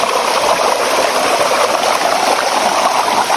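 Shallow stream water rushes steadily nearby, a loud, continuous broadband hiss and gurgle with no pauses.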